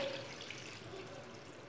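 Water pours steadily from a glass into a pot of overnight-soaked white chickpeas, a soft continuous splashing trickle heard close and alone, with no talk.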